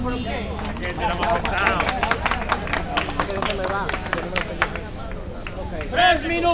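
Audience applause breaks out at a freestyle rap battle semifinal, scattered clapping and crowd babble with voices talking over it throughout.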